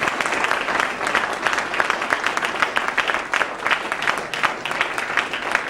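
A crowd at a Nation of Islam gathering applauds Brother Minister Wazir Muhammad, a steady, dense clapping that fills the hall for several seconds with no talking over it.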